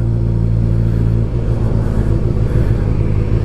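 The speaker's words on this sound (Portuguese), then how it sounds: "Muito tempo sem andar de moto" Honda CB motorcycle engine running close by, a loud, steady low rumble with a slight dip in revs partway through, then a rough, even idle with no voices.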